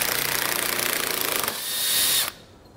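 A power tool spins an 8mm socket to back out bolts while fitting a Blue Ox base plate kit on a 2018 Ford Explorer, giving a close, steady whirring buzz that shifts pitch and then cuts off abruptly.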